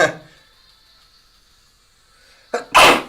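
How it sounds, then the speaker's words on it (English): A single sharp sneeze bursts out loudly near the end, preceded by a quick intake of breath, after a mostly quiet stretch. "excuse me, I'm gonna sneeze."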